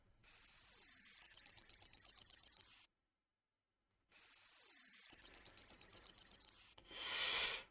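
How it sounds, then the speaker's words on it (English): Sparrow song played in the Bird Hero video game: two clean, loud bursts, each a rising whistle then a rapid trill, separated by silence and followed by a short noisy rasp. "All of these are sparrows."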